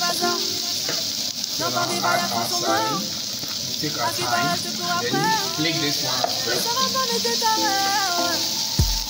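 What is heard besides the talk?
frying Ghanaian street noodles in a pan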